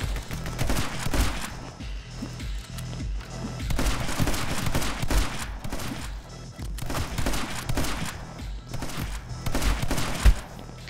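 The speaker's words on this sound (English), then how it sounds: "Spinning and coming out of it and shooting." Gunfire in the action video game My Friend Pedro: loud, near-continuous bursts of rapid shots and heavy booms, layered densely with almost no pauses over a steady backing score.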